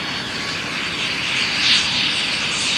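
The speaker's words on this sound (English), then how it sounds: "And he's throttling up again." A Cirrus Vision SF50 single-engine personal jet throttles up at the Oshkosh 2014 airshow, giving a steady, broadband roar that swells slightly in the middle. Heard from a distance outdoors, with no talking.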